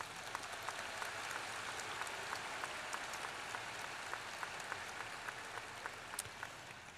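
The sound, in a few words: applause at commencement ceremony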